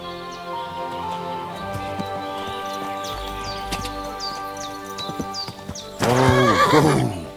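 Hooves clip-clop in a steady trot in Kingdom Come: Deliverance 2, with birds chirping in the background, before a loud, close horse whinny breaks out near the end.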